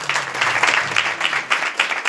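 A church congregation claps together in a brief, steady run of hand claps at moderate loudness, with no voices over it.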